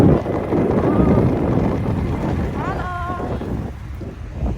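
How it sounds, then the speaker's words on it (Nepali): Heavy wind roar buffets the microphone while riding a scooter along a winding road in Nepal's hills, loud and constant, with a brief wavering whistle-like tone partway through. "अहिले चाहिँ हामी स्कुटरमा छौँ"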